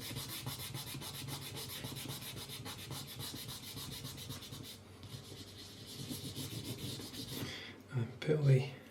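A finger rubs protective film down onto a Bell GP3 carbon helmet, giving a steady soft friction scrape that runs continuously at close range, easing off briefly before a couple of louder handling bumps at the end.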